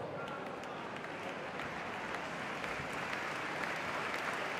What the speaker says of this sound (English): I knew you'd get a round of applause then